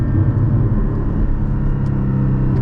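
A 2022 Porsche Cayman GT4 with a manual gearbox and Valvetronic exhaust rumbles loudly inside the cabin, its engine droning steadily with only slight swells, heard close and alone.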